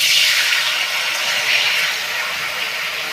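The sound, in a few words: water being poured into a wok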